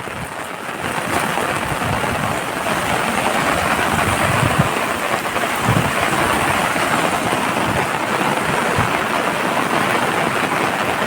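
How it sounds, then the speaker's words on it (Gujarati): Heavy morning rain pours steadily over farm fields, a dense, continuous hiss with a low rumble, loud and unbroken throughout with no voices. "અતિ ભારે વરસાદ આવ્યો"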